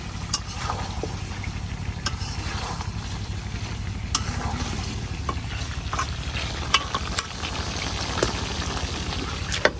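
Potatoes and mutton curry frying in a pan while being stirred, a continuous close sizzle with scattered sharp clicks and scrapes from the utensil, steady and loud, with no voices.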